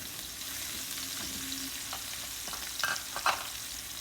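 Onions for chicken lettuce wraps fry in a pan with a continuous soft sizzle, joined near the end by a few brief clinks and scrapes of stirring. No one talks.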